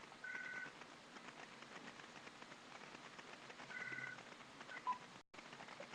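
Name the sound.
phone ringing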